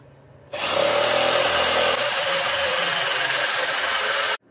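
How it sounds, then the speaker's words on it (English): A Harbor Freight electric shear cuts through a large sheet of metal for an E46 rear-mount radiator setup, starting abruptly as a loud, steady, high-pitched mechanical chatter that runs unbroken for about four seconds before stopping sharply. "What we're using is this Harbor Freight electric shear."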